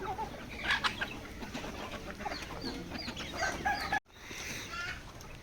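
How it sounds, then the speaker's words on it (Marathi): Chickens cluck steadily on a poultry farm among quality breeder hens, the calls overlapping and moderately near against continuous farmyard background, broken by a brief dropout before the fowl noise resumes. "अशा भरपूर अशा आपल्याकडे कोंबड्या आहेत खूप क्वालिटीच्या"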